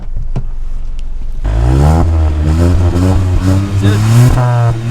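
Hyundai i20 N Line hatchback exhaust note as the engine is revved, a loud rising and falling roar that starts abruptly after a quiet opening and holds steady, close by.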